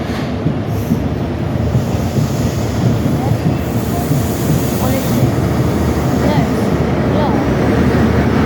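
An HST high-speed train passes at Plymouth station with a loud, continuous rumble of wheels and engine noise that fills the whole stretch.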